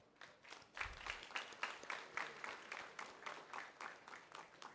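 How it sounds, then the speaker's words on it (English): Scattered, rhythmic clapping from an audience at a university graduation ceremony, faint and distant, pulsing in uneven bursts across the whole stretch. "Please clap for yourself."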